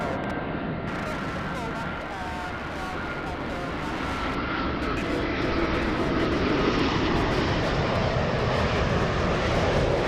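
A Lufthansa airliner, the first of its type delivered to the airline, roars on the runway at LAX, a loud, steady broadband jet engine noise that builds slightly over about ten seconds with no voices on top.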